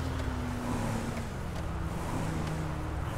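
Car engine in GTA V, driven through a favela area, a steady low hum with a sustained tone that rises slightly, continuous and fairly loud with no talking.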